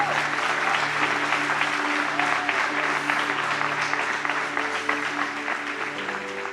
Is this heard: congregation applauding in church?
yes